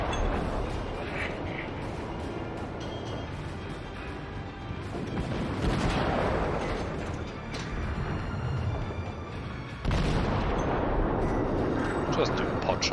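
Warship guns fire at a fleeing aircraft carrier in a World of Warships naval battle: dense, loud rumbling salvos and blasts pile up continuously, with a fresh heavy burst of firing striking in sharply near the end.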